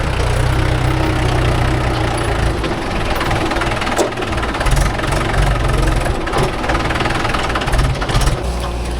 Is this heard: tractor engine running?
yes